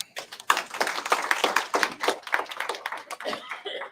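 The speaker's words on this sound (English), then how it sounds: "Round of applause." A small audience at an investors group meeting claps in a scattered, uneven round of hand claps, close and fairly loud, with a few voices mixed in.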